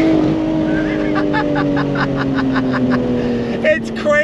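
Lotus Evora GT with a supercharged Toyota V6, windows down, accelerating on throttle. The engine note rises smoothly and continuously, with a gear change near the end, loud and close from the cabin while a voice comments briefly.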